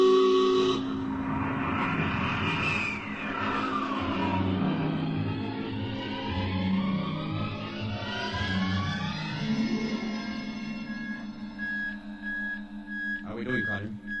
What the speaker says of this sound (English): Prepare to blast off on navigator's signal.